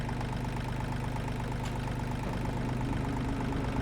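A tractor engine idling in Farming Simulator 22, a steady low rumbling drone with an even mechanical pulse, constant and unchanging, alone without talk.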